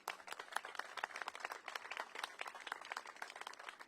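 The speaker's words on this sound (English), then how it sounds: "Let's give her a round of applause." An audience claps for Mayor Muriel Bowser at an outdoor announcement in Washington, D.C., a brief patter of scattered hand claps, fairly faint and steady, with no talking over it.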